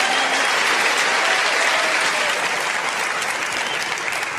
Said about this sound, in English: the applause started earlier